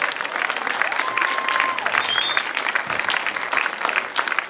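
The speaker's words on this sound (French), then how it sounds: "On va encore l'applaudir plus fort" A large crowd at a stage event gives a sustained ovation, dense, loud clapping with cheers and a few whistles rising above it, steady throughout with voices mixed in.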